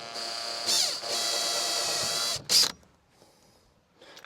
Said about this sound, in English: This is plastic, so it makes drilling this bit quite easy.